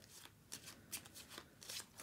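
Board game cards from Tiny Epic Defenders 2nd edition being shuffled by hand, a close, quiet series of soft riffling bursts and light flicks, alone without talk.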